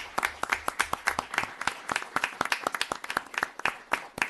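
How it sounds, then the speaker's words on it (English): A small audience at a town board meeting claps for police officers, a sparse, fairly close applause where individual hand claps stand out clearly in an uneven rhythm. "you can give them an applause"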